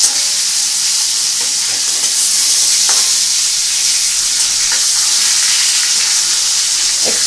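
Pieces of snakehead fish sizzle continuously in hot oil, a dense hiss that stays loud and even throughout, broken only by a few faint clicks.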